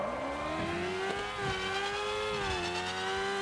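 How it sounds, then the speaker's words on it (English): A game car's engine, sounding like an LS V8, holds a steady high rev in a car-building video game, a continuous whirring drone that dips and rises slightly, with no talking. "now it sounds like an LS engine"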